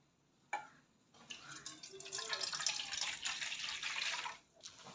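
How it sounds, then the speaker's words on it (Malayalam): Water splashes and pours steadily into a pot for a few seconds after a brief clink, then stops. "ഒരു ഗ്ലാസ് വെള്ളമാണ് എടുത്തിരിക്കുന്നത് നമുക്ക് പാത്രത്തിലേക്ക് ഒഴിച്ചു കൊടുക്കാം"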